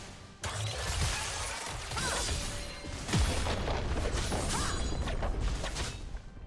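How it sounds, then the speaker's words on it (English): A League of Legends turret is destroyed in a heavy crash and boom, with shattering debris and whooshing effects that roll on loudly for several seconds. "Red team's turret has been destroyed."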